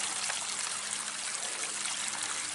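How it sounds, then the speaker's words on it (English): A small waterfall trickles steadily from a culvert at a filled-in dam site, a continuous close, even splashing hiss with no pauses. "You can see the little waterfall still coming off of that."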